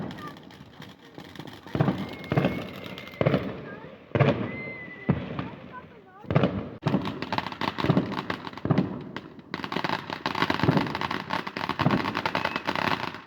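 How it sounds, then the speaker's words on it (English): Bonfire Night fireworks crack and pop in a rapid series of sharp bursts, some loud and close, with a few whistling rockets and people talking and shouting between them. "Another day, another firework."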